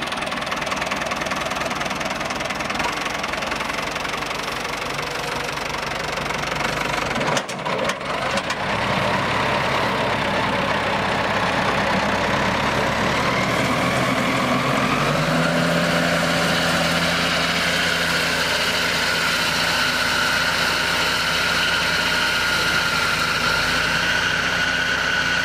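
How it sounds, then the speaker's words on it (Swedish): An old tractor engine runs in a steady, loud mechanical chug with knocking undertones, briefly faltering near the middle before settling back into a continuous rumble, with no talking. "Men först då ska vi låta Björn starta sin traktor och fortsätta det avbrutna arbetet."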